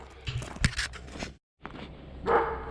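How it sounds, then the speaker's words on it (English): A golden retriever gives short barks and makes scuffling, crunching sounds close by, in bursts broken by a brief silent gap. "It's a golden retriever, can't be too mean."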